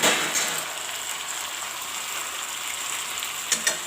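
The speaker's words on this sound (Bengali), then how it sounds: "সব মশলা এবং মাংসটাকে ভালো করে কষে নিচ্ছি।" Chicken pieces and spices sizzle steadily in a pan for a Bengali red curry, with a dense, close frying hiss throughout and a couple of brief stirring knocks near the end.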